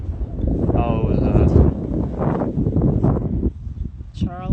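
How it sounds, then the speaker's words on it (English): Gusty wind buffets the microphone in low, heavy rumbles while people talk over it. "How windy it is."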